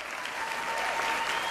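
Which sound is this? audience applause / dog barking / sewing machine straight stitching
audience applause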